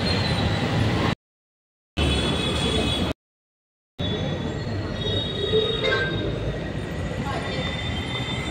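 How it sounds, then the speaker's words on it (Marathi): A metro train at a metro station on the way to Dapodi: a loud, steady rumble with squealing wheels that cuts out twice into brief silence before resuming. "आता आपण आलेलो आहोत मेट्रो स्टेशनला"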